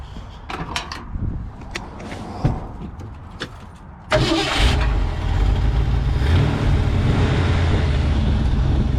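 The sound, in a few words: pickup truck engine cranking and starting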